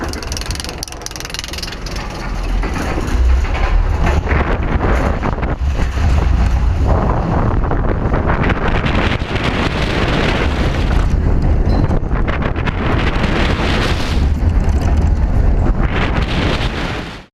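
Steel coaster ride at California's Great America, heard as a loud, continuous rush of wind buffeting the microphone with rumbling track noise and rattling mechanisms throughout, no talking.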